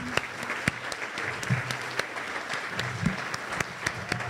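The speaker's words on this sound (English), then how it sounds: "please join me in a round of applause for our inaugural visionaries" Audience applause at a fundraiser gala, steady dense clapping from a crowd with a few sharper individual claps standing out, sustained at moderate loudness throughout.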